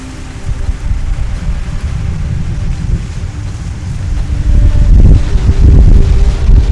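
Strong gusting wind during a thunderstorm in Brittany buffets the microphone with a steady roar that builds into heavier, louder gusts toward the end.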